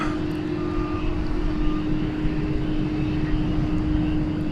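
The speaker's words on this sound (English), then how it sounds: "UPS 767 heavy going in park" A UPS Boeing 767 heavy jet at DFW Airport, its steady engine roar holding loud and close throughout, with a constant tonal hum riding over broad rumbling noise.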